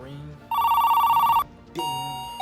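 A telephone-style bell rings with a fast trilling tone, then a second, different ring follows. Both are loud and close, heard as a notification sound effect, with a voice before it.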